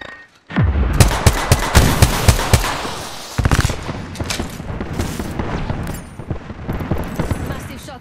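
Shotgun fire in Apex Legends Season 14: a quick series of loud, close blasts, then a pause and a second, longer run of shots under game ambience.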